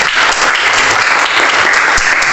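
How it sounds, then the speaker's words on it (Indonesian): Classroom of students clapping for a classmate after a speech, a loud, dense round of applause that holds steady without voices over it. "Tepuk tangan untuk Hafid."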